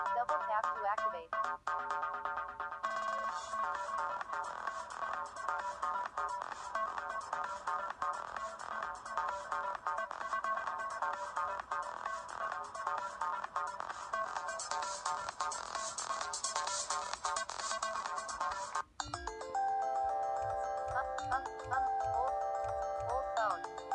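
A downloaded phone ringtone with a windy effect plays alone for the whole stretch, a steady, busy electronic tone that shifts to a sparser melodic pattern near the end, with no talking.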